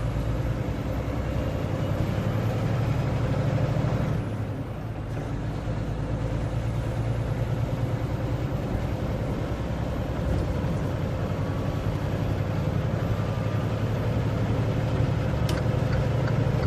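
A 2019 Freightliner Cascadia truck's diesel engine runs steadily through its gears, a continuous loud low drone with a brief dip in level partway through and no voices.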